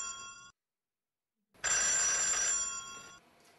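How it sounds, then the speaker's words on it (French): A telephone bell rings alone in two bursts, a short ring, a second of silence, then a longer, louder ring that fades toward the end. "Le téléphone a sonné, Steven."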